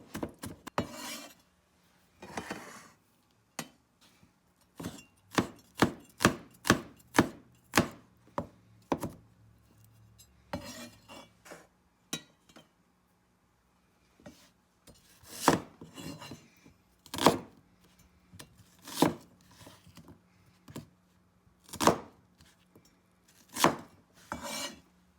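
A knife minces ginger on a cutting board with bursts of rapid, sharp chopping taps separated by short pauses, close and crisp.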